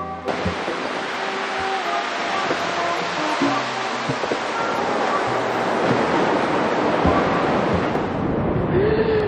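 Ocean surf rolls onto a beach in El Salvador at sunrise, a continuous broad wash of waves with gusty wind buffeting the microphone.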